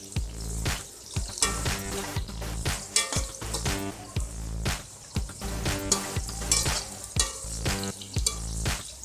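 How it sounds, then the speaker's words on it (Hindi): Okra fries in a pan for achari bhindi, a dense, steady crackle with repeated scraping strokes of stirring and occasional sharper pops, close and moderately loud with no voices over it. "भिंडियाँ जो हैं वो फ्राई होने वाली हैं, हल्की हल्की सी लाल हो गई हैं।"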